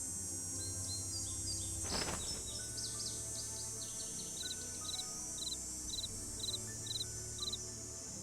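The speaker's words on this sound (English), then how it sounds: "I hear crickets" Crickets chirp in the video game Nancy Drew: Ghost Dogs of Moon Lake, a quiet outdoor night scene with small, evenly spaced high trills over a soft hum, joined briefly by a single rustling clatter.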